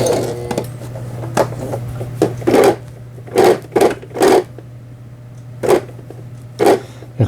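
A Brother sewing machine runs during repair with a steady motor hum, broken by repeated bursts of needle stitching and clattering mechanical knocks in irregular rhythm, loud and close.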